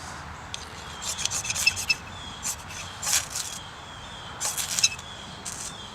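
A knife spine scrapes along a piece of fatwood in short, irregular rasping strokes, close and fairly quiet, with brief pauses between bursts.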